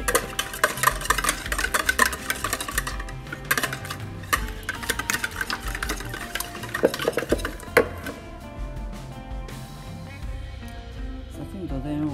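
Eggs, oil and butter stirred together in a bowl for challah dough, a busy run of scraping, clinking utensil strokes up close, fairly loud and continuous, with a brief spoken remark.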